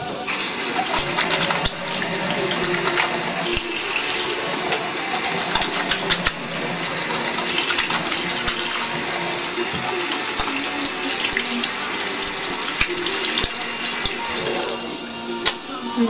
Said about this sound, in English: what you're supposed to do is wash your hands